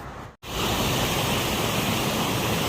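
Water flows steadily over a concrete edge, a loud, even rushing after a brief silent gap at the start.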